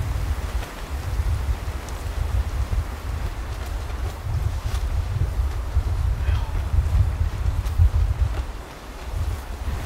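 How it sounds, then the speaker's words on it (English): Strong wind buffets the microphone at an exposed rocky point during a cold-weather camping trip in Killarney wilderness, a loud, continuous low roar with gusts rising and falling throughout, with no talk over it. "It's incredibly windy."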